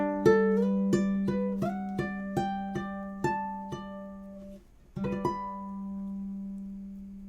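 A ukulele is fingerpicked slowly and cleanly, single plucked notes ringing out one after another in an even, gentle rhythm over a sustained low note, with a brief pause before the phrase resumes and fades.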